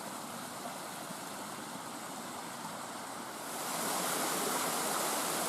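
The Narinetskyi waterfall in the Gorgany massif of the Ukrainian Carpathians roars steadily, a constant broad hiss of rushing water that swells louder partway through.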